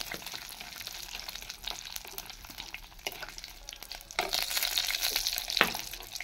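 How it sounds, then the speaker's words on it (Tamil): Mustard seeds and lentils frying in hot sesame oil, a dense crackling sizzle with popping that swells louder toward the end, close and continuous with no talking. "கடுகு பொரிஞ்சது, நல்லெண்ணெய் ஊற்றிருக்கேன்."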